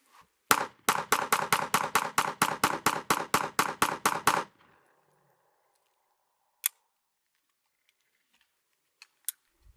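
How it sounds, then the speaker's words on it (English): A Smith & Wesson M&P2.0 Metal Carry Comp pistol fires 115 grain 9mm Blazer rounds in a rapid string of about sixteen sharp, evenly spaced shots over four seconds. Near silence follows, broken by a few isolated clicks. "I'm currently shooting some 115 grain 9mm Blazer."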